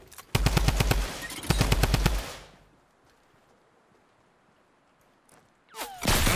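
Rapid automatic gunfire in Fortnite Battle Royale: two loud bursts of fast, evenly spaced shots, then a near-silent pause before another sharp burst at the end.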